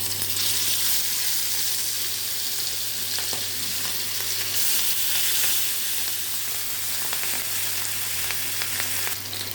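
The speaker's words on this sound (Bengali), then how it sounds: "মাছগুলো হালকা করেই ভেজে নেব" Hilsa fish pieces fry in a generous amount of mustard oil, giving a steady, loud, dense sizzle that runs the whole time with occasional small pops and crackles and no talking.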